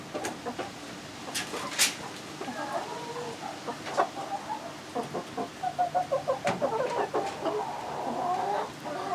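Chickens cluck in a run of short, rhythmic calls close by, including a hen that acts like a dog, with a few sharper squawks mixed in and some background chatter.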